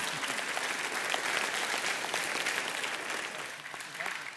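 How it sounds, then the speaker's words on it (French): Steady audience applause from a tech debate show's crowd, dense and sustained throughout, with no clear voices over it. "On peut essayer de l'applaudir un peu pour les encourager"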